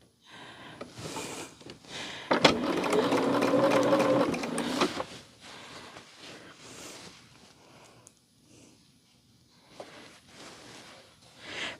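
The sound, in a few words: sewing machine stitching fabric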